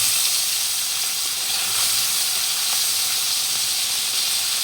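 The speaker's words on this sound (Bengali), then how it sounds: "ট্যাংরা মাছটি ফেলে যাচ্ছে।" Tengra fish dropped into hot oil in a kadai, giving a steady, loud broadband hiss and sizzle that continues throughout with no talking.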